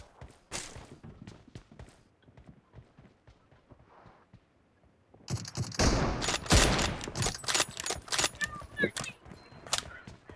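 Gunfire rings out in the mobile battle royale game BGMI: quieter footsteps and scattered shots first, then dense, loud bursts of rapid fire and impacts in the second half.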